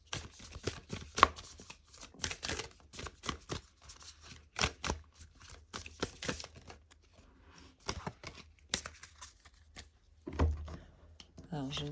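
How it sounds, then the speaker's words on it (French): Louise Hay affirmation cards are shuffled by hand, making crisp riffling and flicking bursts that recur through the clip. Quiet, close, with soft pauses between shuffles. "je vais prendre une carte Aime-toi toi-même de Louise Hay pour voir le message."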